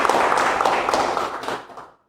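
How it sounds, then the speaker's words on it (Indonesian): An indoor seminar audience claps together for about two seconds, a dense crowd applause that fades out at the end. "Tepuk tangan buat Anda semua."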